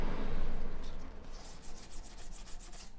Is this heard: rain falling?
no